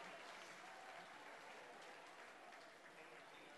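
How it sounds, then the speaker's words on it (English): Crowd applause on senior night at a boys' basketball game between Collinsville and Belleville West, a distant, faint but continuous wash of clapping through a large gym. "Oh, they're just giving them a big applause."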